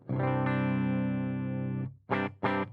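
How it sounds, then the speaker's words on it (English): A sustained electric guitar chord, a clean direct DI signal, rings out dry and unprocessed for nearly two seconds, followed by two short, clipped strums. "Right now, you just got a straight up DI signal."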